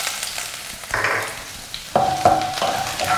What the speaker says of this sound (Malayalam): ഇഞ്ചിയുടെ പച്ചമണം മാറുന്ന വരെ നമുക്കൊന്ന് വഴറ്റി കൊടുക്കാം.